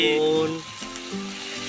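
Chopped onion, garlic and ginger with spices sizzling in oil tempered with cumin, a steady close frying hiss running beneath a voice speaking over it.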